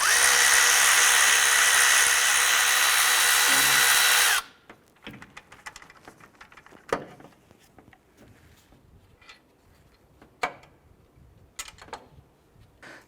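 Power tool working on the upper pivot bolt of a Honda Civic alternator, a loud steady drilling whine for about four seconds that cuts off abruptly, followed by quiet scattered clicks and taps of handling parts.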